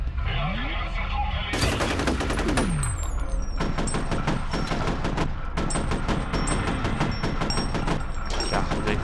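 Rapid bursts of loud, close gunfire from the first-person shooter game F.E.A.R., with sharp automatic volleys and echoing cracks repeating through the stretch, and a voice faintly in the background.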